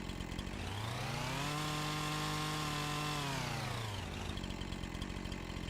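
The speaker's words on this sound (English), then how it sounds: "Chainsaw doesn't even detect it." A chainsaw in the video game Farming Simulator 25 runs steadily and loud, its engine pitch winding up, holding at high revs, then dropping back down over constant background noise, with no talk.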